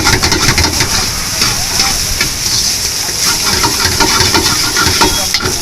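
Chicken fried rice stir-fried in a wok at a fast-food street stall, giving a loud, steady hiss of sizzling oil with constant scraping and tossing that runs unbroken throughout.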